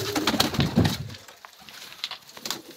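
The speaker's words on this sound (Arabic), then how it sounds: "هذا طير بزرق" Pigeon cooing close by, a few soft low coos in the first second followed by quieter rustling and faint bird sounds.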